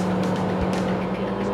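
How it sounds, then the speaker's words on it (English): A Nissan Terrano engine revs hard toward 5,000 RPM, giving a loud, steady, slightly buzzy drone that holds close and continuous throughout. "Things get quicker still as you rev it up."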